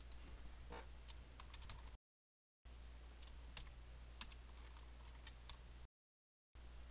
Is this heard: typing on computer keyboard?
yes